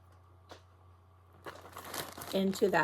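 Plastic storage bags used to hold quilts crinkle and rustle, starting after a faint tap and building into a busy, close burst of crackling handling noise near the end.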